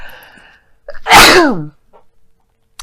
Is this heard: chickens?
no